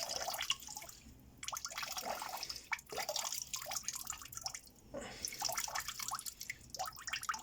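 Dirty liquid drains and drips from a rusty Honda CB125 RS fuel tank during restoration, a steady trickling and splattering with irregular drops, close and fairly quiet throughout.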